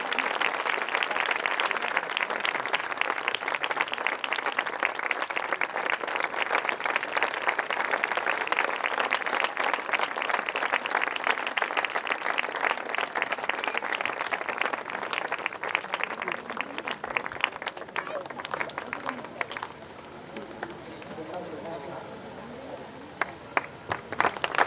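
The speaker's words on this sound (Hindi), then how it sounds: "और ताली बजाएं प्रभु की स्तुति" A church congregation claps together in praise during a worship service, a long run of rapid, rhythmic group clapping that carries on steadily for much of the time before thinning out into scattered claps and a quieter room.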